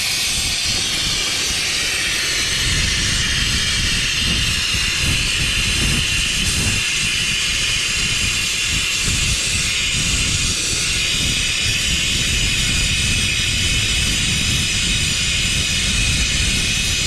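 A Bestarc BTC800XP plasma cutter slicing through a hardened metal cutting edge gives a loud, continuous harsh hiss and roar, close and steady throughout with no voices.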